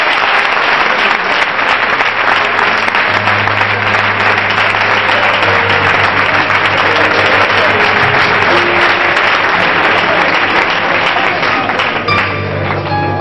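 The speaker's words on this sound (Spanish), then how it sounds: "Aplaudimos a Dios" A church congregation applauds during a sermon, a dense, steady wash of clapping from many hands that fills the room without a break, with a low sustained hum underneath.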